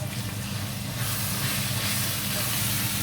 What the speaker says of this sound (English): It looks really nice, and it's sizzling